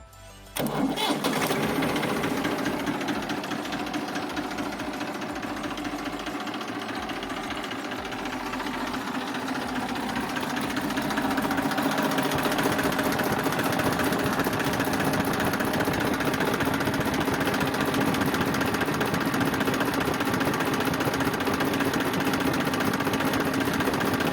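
A Massey Ferguson 245 DI tractor's diesel engine starts abruptly and settles into a loud, continuous knocking idle close by, growing slightly heavier midway and holding steady to the end.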